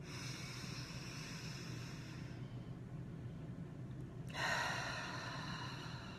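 A single deep breath taken during a pause for mindfulness: a long soft exhale fades into quiet, then a sharper inhale swells near the end, over a low background rumble.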